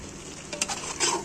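A short stretch of curry being stirred in a pan, with soft scraping strokes and faint sizzling, close and brief, and no voices.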